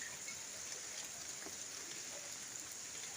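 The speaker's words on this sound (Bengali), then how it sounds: "এই যে বৃষ্টি, পুকুর পাড়েই বৃষ্টি পড়ছে।" Rain falls at the edge of a village pond, a faint, even patter of drops on water and ground that carries on steadily without any talking.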